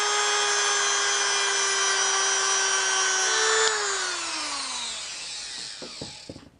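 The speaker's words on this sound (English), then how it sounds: "using my little rotary tool with a little sanding block thing on it and just grinding this way" A small rotary tool whines at a high steady pitch while sanding, then its motor winds down, slowing with a few faint clicks at the end.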